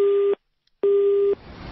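Telephone busy tone after a call is cut off: two loud steady beeps separated by a short silence, followed by faint line noise.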